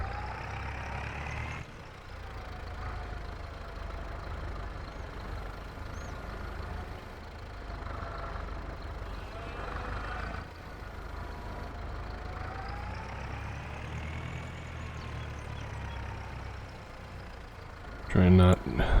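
A tractor engine runs steadily on a farm with cows nearby, a low idling drone with slight pitch rises under occasional talk, ending with a brief clunk.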